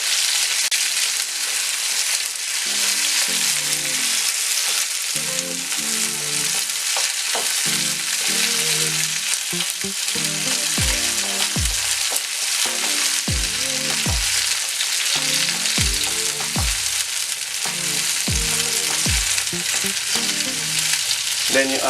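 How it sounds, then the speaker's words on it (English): Tomato and baked beans cook gently in a pan on lowered heat, giving a steady dense sizzle throughout while a rhythmic thumping beat plays underneath. "then you turn down the fire a little bit and let it slow cook for about a minute"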